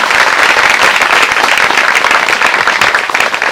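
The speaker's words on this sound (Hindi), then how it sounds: "ताली बजाएंगे सब यीशु मसीह के नाम से" A church congregation at a Hindi sermon claps loudly together in unison, a dense, continuous roar of hands close by with no speech over it.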